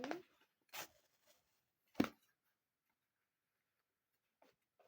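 A paper packet is torn open in a few sharp, close rips separated by pauses, followed by a faint rustle near the end.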